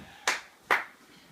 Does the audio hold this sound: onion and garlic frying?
no